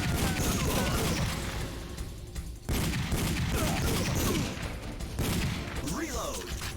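Dense, continuous gunfire from a shooting video game, bursts layered over a busy game soundtrack with a voice talking underneath throughout and a brief dip near the middle.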